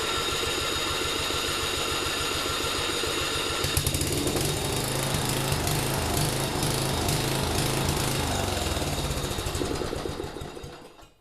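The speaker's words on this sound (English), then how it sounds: "So the engine now runs" A small riding mower engine runs loudly and steadily with a rattling idle, shifting pitch partway through before winding down at the end.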